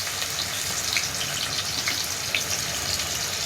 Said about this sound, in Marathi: असा बारीक कापलेला कांदा टाकलाय,